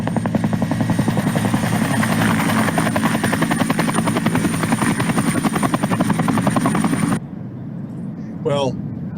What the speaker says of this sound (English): bring a helicopter